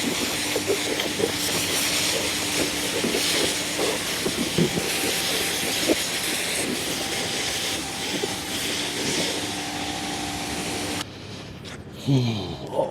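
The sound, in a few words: rinsing a car interior with water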